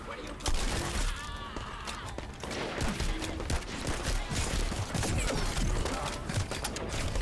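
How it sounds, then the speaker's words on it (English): Gunfire in the video game The First Descendant, with a shotgun among the weapons, comes as a dense, busy clatter of shots and impacts, and game sounds and voices mix in throughout. "Luckily I've got the shotgun out."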